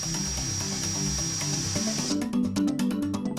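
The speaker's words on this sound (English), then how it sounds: "trigger the sprayer for approximately 10 to 15" Graco TrueCoat Pro II paint sprayer spraying flushing fluid, a steady close hiss over a motor hum, then rapid pulsing bursts as the sprayer keeps running, loud, with no talking.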